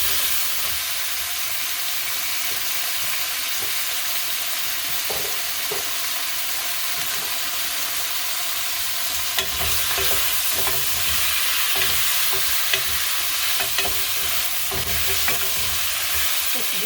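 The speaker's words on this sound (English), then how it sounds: "I am going to cook these a little bit, these veggies a little bit before I put in the tomato sauce" Chopped vegetables for beef kaldareta sizzle steadily in a pan while a utensil stirs them, with scraping clatters growing busier partway through; no talking.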